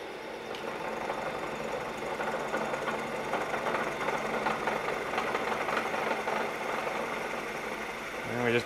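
A Bridgeport milling machine runs on power feed while cutting keyways, a continuous mechanical hum with fine rhythmic chatter and a steady motor drone, moderately quiet and even throughout.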